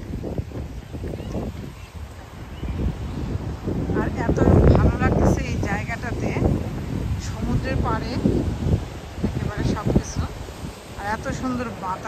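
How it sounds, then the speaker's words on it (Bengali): Outdoor wind on a warm day at Kamogawa Sea World buffets the microphone as a steady low rumble, with people talking over it throughout. "সুন্দর বাতাস, গরমের দিন"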